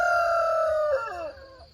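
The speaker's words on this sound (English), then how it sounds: "Got a crowing battle going on between Doodle Doo, the new little guy getting his crow, and Rusty over there" A young rooster gives one close, clear crow that breaks and wavers at the end, on a farm beside woods where roosters trade crows. No one speaks.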